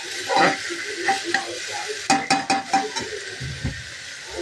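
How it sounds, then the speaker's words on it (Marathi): Tempering spices crackle and sizzle in hot oil while a spoon scrapes and stirs against a pan, with a few sharp metallic clinks. "मला फोडणी देताना दाखवावं"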